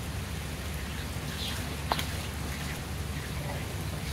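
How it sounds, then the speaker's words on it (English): Rain beginning to fall at a campsite, a steady soft hiss of drops on surfaces with a single sharp click partway through, faint and even throughout. "It's starting to rain."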